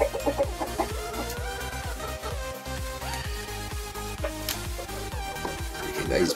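An Aseel hen clucks in a coop bedded with straw, its short repeated clucks rising through a dense layer of music and other steady noise.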